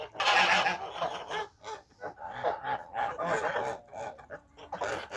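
Young blue Kholmogory geese honk and cackle in a backyard poultry yard, a few birds calling in bursts close by, with short pauses between and no talk.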